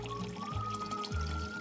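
A Zip HydroTap Arc or Cube faucet dispenses chilled water in a soft, steady pour over a faint, constant electrical whine, with no talking.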